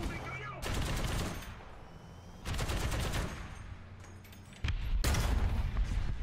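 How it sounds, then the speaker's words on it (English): Tank machine guns in War Thunder fire in three long, heavy bursts separated by short pauses, loud and close, with an engine rumble underneath. "Listen how chunky those fucking machine guns are."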